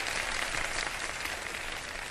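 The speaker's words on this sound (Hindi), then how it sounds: "तालियां तीनों टीम्स के लिए।" Steady, even applause from a studio audience cheering three competing teams on a television show, a brief uniform patter of many hands with no voices.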